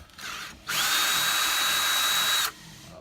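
Cordless power drill whirring at high speed while backing out the handle screws on a patio door, a short blip and then a steady loud whine of about two seconds, alone.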